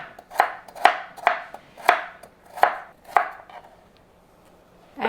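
A knife cuts carrot into strips on a cutting board, with seven sharp, evenly spaced chops close up, then a short pause before one more cut.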